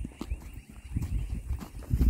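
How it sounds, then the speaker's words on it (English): Horses walk on a farm in rural Guyana, their hooves clip-clopping in a close, uneven rhythm over a low rumbling background. "You got horses and everything back here"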